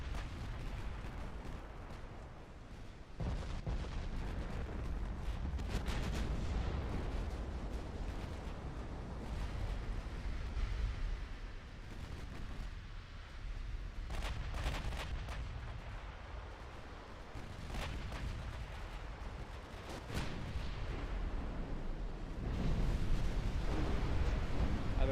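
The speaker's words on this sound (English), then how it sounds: "with this many battle cruisers shooting 16-inch guns at us" Heavy naval gunfire from massed battle cruisers firing 16-inch guns in a dreadnought-era naval strategy game, with repeated booming salvos and rolling blasts over a continuous low rumble throughout, loud and close.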